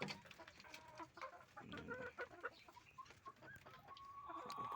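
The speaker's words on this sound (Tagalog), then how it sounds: "Good morning mga chicken. Sagot sila guys, oh." Layer hens at a poultry farm cluck repeatedly in the morning, several birds overlapping close by with irregular calls and a longer drawn-out cackle rising near the end.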